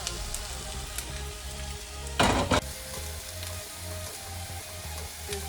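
Prawns are stir-fried with dry basil for Thai basil fried rice, giving a soft, continuous sizzle and crackle with a short, louder burst of frying partway through.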